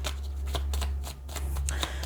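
Tarot cards are shuffled close up, a soft continuous riffling with small flicks and snaps, over a steady low hum and without anyone speaking.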